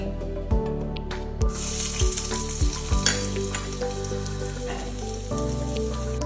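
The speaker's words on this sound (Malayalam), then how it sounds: "അമ്മ, ഓയിൽ ചൂടായി. ഞാൻ ഇനി കരിവേപ്പില ഉള്ളി ഇടുവാണ്" Curry leaves and onion hit hot oil in a home kitchen, giving a loud, steady sizzle and crackle with several soft stirring knocks at regular intervals, and no voices.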